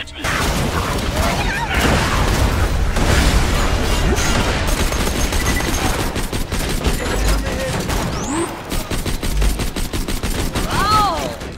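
Hyperion pistol fire in Borderlands 2 comes as dense, loud volleys of rapid shots and booms, with overlapping game explosions and whooshes running nonstop.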